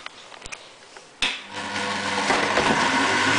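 A juicer starts up with a sharp thump and runs loud and steady, juicing lemon, chilli and ginger, after a few soft clicks and handling noises.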